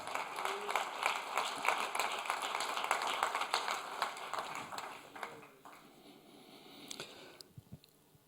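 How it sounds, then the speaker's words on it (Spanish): A Spanish-speaking church congregation applauding during a sermon, dense clapping that fades out over the last few seconds as the room quiets. "Vamos a darle un fuerte aplauso al Señor."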